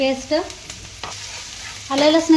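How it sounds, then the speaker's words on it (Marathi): Finely chopped onion fries in oil with turmeric, giving a close, crackling sizzle broken by stirring scrapes and clinks of a utensil against the pan. "बारीक चिरलेला कांदा टाकूया, कांदा भाजत आलाय त्यात थोडीशी हळद टाकूया"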